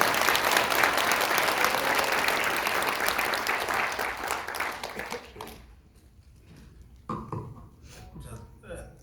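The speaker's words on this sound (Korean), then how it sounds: "박수 한번 보내주세요." An audience at a Korean political rally breaks into loud, sustained clapping that fades after about five seconds. A few scattered claps follow as it dies down, and voices can be heard afterward.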